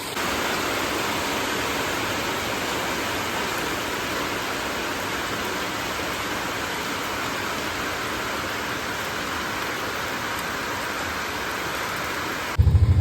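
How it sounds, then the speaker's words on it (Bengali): Steady, dense rain falls outside, a continuous even hiss that holds at a moderate level for the whole stretch with no voices, ending in a brief louder bump. "বৃষ্টি পড়ছে বাইরে"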